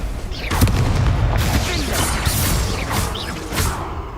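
Blasting spells and combat effects in the Hogwarts Legacy video game: dense rumbling booms and crackling impacts over a continuous loud mix, with a voice speaking over the action.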